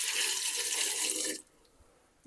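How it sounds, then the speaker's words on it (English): Tap water pours steadily and fairly loudly into a pot for homemade cranberry sauce, then cuts off, leaving a quiet kitchen with a faint clink. "And then I'm going to do 3 more cups of water."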